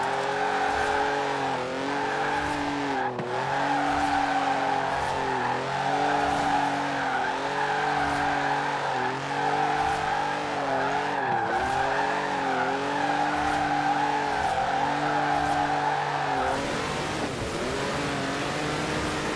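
A car drifts in the Forza Horizon 4 racing game, its engine droning steadily with wavering pitch as the tyres squeal continuously through long slides. The sound is loud and close, then drops away abruptly near the end.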